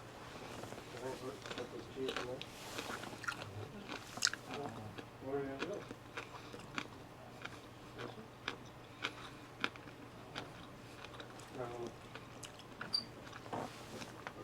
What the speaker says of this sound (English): then you're chewing up the covering or whatever